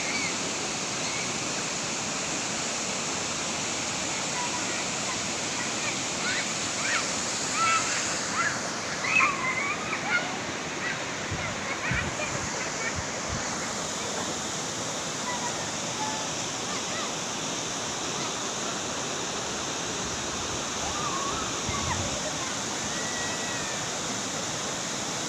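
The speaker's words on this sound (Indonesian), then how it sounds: "Inilah dia Sungai Tanah Jawa." Rushing water of the Sungai Tanah Jawa river, a steady broadband roar that stays even and fairly loud throughout with no talk over it.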